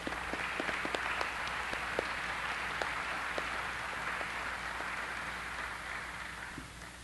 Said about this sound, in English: Please join me in a round of applause for these new members.